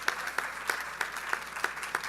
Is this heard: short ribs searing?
no